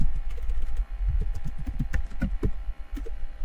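Rapid clicking of a computer keyboard as a message is typed, close and steady with brief pauses between bursts of keystrokes.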